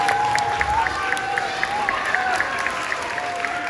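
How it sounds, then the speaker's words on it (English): Elementary school students at a 100th birthday event clap for a speaker, a steady crowd of applause with a high tonal whine and faint voices running underneath. "Give one more round of applause,"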